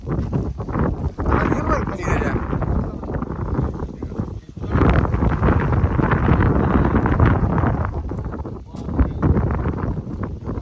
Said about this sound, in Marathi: किती वार आहे त्याला लय वार आहे